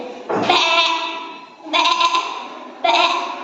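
A voice imitates a sheep, three wavering bleats in quick succession, loud and close.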